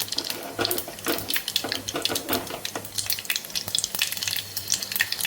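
Cumin and mustard seeds crackle and sizzle in hot oil in a pan, a dense, steady hiss with repeated sharp pops close by, continuing for several seconds with no voice over it.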